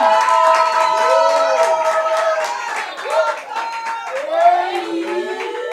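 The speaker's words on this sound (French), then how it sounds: "accompagné de vos applaudissements" Steady applause from a crowd at a certificate award ceremony, with continuous clapping and some cheering and shouts layered on top throughout.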